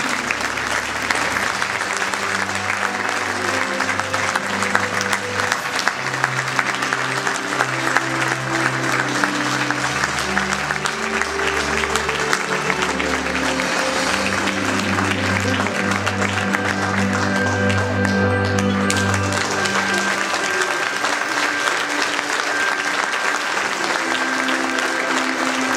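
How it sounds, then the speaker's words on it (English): An audience at a Freedom Award ceremony applauds for the people of Tunisia, a dense, steady wash of clapping from a large crowd that holds strongly for nearly half a minute. "Applause."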